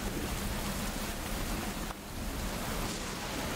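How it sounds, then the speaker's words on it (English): Steady rain pours as an ambient backdrop during a tabletop fantasy role-playing session, a continuous broadband hiss that dips briefly midway before resuming, with no voices over it. "travelling through the rain like this"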